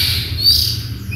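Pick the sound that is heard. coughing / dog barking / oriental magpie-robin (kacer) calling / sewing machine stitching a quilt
oriental magpie-robin (kacer) calling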